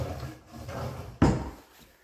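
A freshly installed cabinet drawer slides and bumps shut with one short wooden knock after a soft rolling movement, close by and alone.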